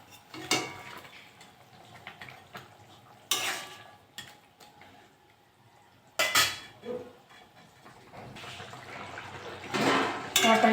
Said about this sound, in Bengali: ঝোলটা ফুটে গেছে। আমি এবার মাছগুলো দিয়ে দেবো।